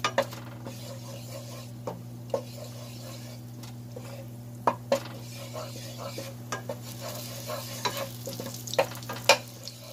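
Butter melting in a little olive oil in a pan gives a steady low sizzle, with scattered clinks of a utensil against the pan and stirring sounds throughout.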